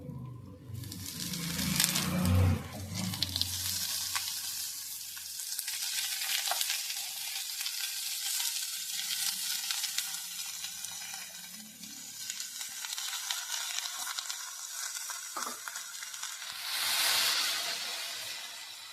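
Loud frying and sizzling of cabbage in a pan with repeated scraping and stirring, a bright hiss of steam swelling near the end.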